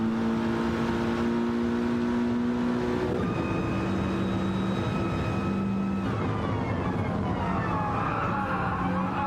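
Racing cars in a Dragon Trail Gardens video game race drone continuously at close range, engine notes rising and shifting through gear changes as several cars run nose to tail.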